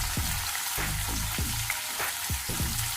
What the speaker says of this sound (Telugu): అలాగే ఉల్లిపాయ ముక్కలు, ఇవి ఒక 2 నిమిషాలు వేయించుకోవాలి.